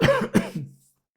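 A brief, close cough in two or three harsh bursts, then silence.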